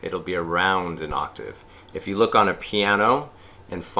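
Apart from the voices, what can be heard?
No everyday noise stands out behind the speech.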